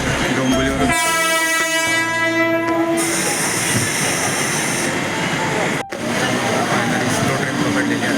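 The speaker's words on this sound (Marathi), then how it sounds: "स्लो ट्रेन आता आलेली आहे" A Mumbai suburban slow local train pulls in at Dombivli station, its loud rumbling wagons and a sustained horn blast filling the platform, with crowd noise and voices around it.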